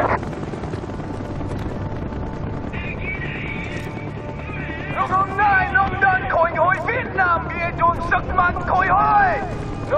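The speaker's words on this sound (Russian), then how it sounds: "Будут еще вертушки." Military helicopters in the Vietnam level of the video game Call of Duty: Black Ops, a loud continuous rotor drone under shouted speech and radio chatter, with rising engine whine and sharp effects toward the end.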